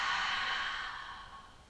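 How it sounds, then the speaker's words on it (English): A single slow exhale through the mouth during beginner yoga breathing, a soft breathy whoosh that is loudest at the start and fades gradually, close and alone with no talk. "And exhale through the mouth."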